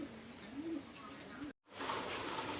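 Pakistani high-flyer pigeons coo softly in a low, rolling rhythm, faint and close, broken by a brief moment of silence.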